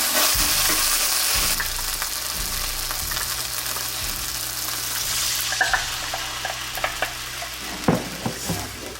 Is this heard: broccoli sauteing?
yes